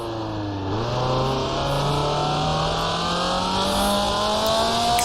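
A 1966 Formula 2 race car in Grand Prix Legends drops a gear, the engine pitch falling sharply, then climbs in a long, steady rising whine as it accelerates, loud and close.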